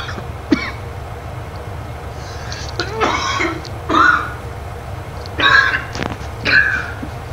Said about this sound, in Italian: Scusate un po' di tosse